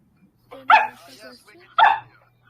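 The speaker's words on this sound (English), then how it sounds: "Bad dog." A pet dog at home barks twice, sharp and close, about a second apart, with quieter whines and grumbles between the barks.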